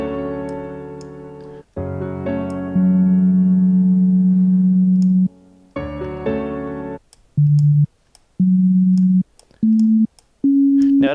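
A free Looperman music loop plays back in Reaper: sustained electronic tones and chords hold, cut off, then step upward in short repeated blocks, bright and steady at close, even volume, with no voices.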